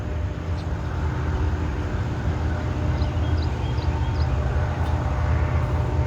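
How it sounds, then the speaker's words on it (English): A train passes at a steady distance with a continuous low rumble and roar. A few faint higher squeals sit briefly above the noise. "here comes the end of the train"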